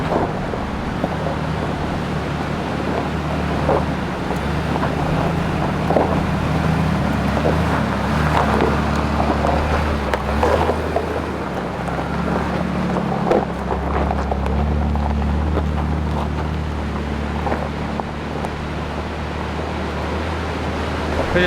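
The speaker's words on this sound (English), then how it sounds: "It's getting very, very windy again." Strong wind roars continuously near a hilltop on an Australian four-wheel-drive trail, buffeting with a low rumble and gusty rushes throughout, with no voices.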